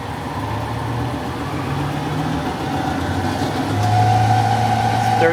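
A Hardinge DSM-59 lathe spindle spinning up to high speed in a machinery shop, a steady mechanical hum and whine that rises in pitch and loudness toward the end, with faint background noise.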